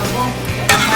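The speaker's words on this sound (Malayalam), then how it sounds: "നമ്മുടെ പന്നി ഇങ്ങനെ തിളച്ച് മറിഞ്ഞോണ്ടിരിക്കുക" Pork bubbles and churns in a cooking pot at a birthday celebration, with a brief sizzling, stirring texture and a sharper scrape or clink near the end of the short burst.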